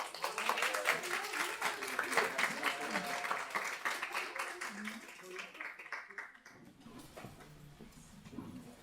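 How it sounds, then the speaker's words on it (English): An audience claps for an intern at a year-end celebration, with dense, lively applause that tapers off after about six seconds into quieter room sound and a voice. "let's give a big round of applause for Kayla"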